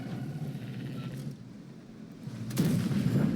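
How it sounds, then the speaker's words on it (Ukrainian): A heavy tank cannon blast in a video game erupts after a stretch of low rumbling engine noise, its boom and echo filling the rest of the moment. "перший постріл за мною був"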